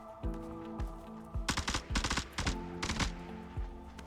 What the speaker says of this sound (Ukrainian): Опа, стріляють.